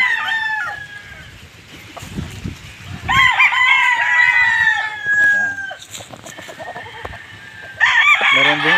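Several young gamecock stags crow loudly and close by, calls following one another with clucking between them and a voice speaking briefly in the background.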